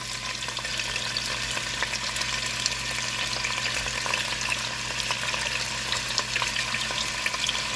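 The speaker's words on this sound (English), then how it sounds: "we're going to cook this meat for about 5 minutes just to get some browning going on it" Beef browning in a hot pot, a continuous loud sizzle and spatter with a low steady hum underneath, no one talking.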